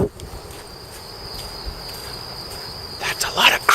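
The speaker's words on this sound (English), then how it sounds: "That's a lot of crickets." Crickets chirp in a steady, high, continuous drone outdoors at night in a Tokyo neighbourhood, fairly close, with some faint street noise and a brief rustle toward the end.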